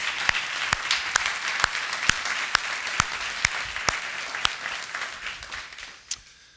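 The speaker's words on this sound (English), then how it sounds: "So would you please give him a round of applause?" An audience applauds a chef at a hospitality conference, a steady bed of clapping with a few sharp, close claps standing out at a regular rhythm before the sound trails off near the end.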